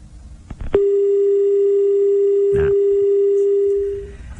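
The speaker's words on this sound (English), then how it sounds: "stand by to pick up the phone" Telephone line tone heard while dialing out on a radio phone-in: a single steady electronic tone holds for about three seconds after a brief click, with a short burst of noise partway through, then fades.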